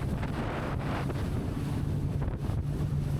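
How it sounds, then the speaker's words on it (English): A Technohull GTX powerboat runs at about 30 knots through wind and swell with its engines trimmed up, heard as a constant low hull and engine roar under heavy wind buffeting and rushing water. "trimming the engines up a little bit, just sitting on about 30 knots there"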